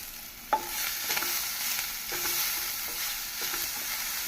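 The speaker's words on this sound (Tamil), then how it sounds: "இந்தளவு வெங்காயம் பூண்டு வதங்கவும்" Onions and garlic sizzle steadily in a hot pan, for a tomato mint chutney, while a spoon scrapes and stirs at regular intervals, close up, with no talking.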